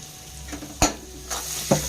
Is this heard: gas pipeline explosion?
no